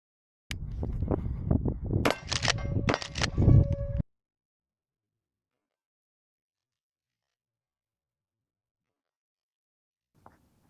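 Remington 870 shotgun firing buckshot in the dark: a burst of sharp, loud reports with metallic clacks between them, then silence and one faint distant knock near the end.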